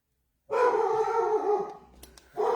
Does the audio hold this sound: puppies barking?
yes